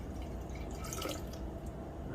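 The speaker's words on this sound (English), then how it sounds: "we got to pour our electrolyte in there" Salt water electrolyte drips and splashes into a container for an electrolysis bleach setup, a short, steady wet patter at close range with no voices.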